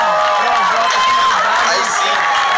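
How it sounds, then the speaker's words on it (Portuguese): A crowd at a rap show in Taubaté cheers and applauds loudly and steadily, with shouts rising over the roar, for MCs performing freestyle. "recebe aí com uma salva de palmas aí"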